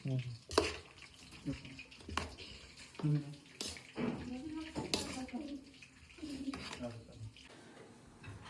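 Papadam fries in oil with intermittent bubbling sizzle and stirring clatter, while people talk over it in the background.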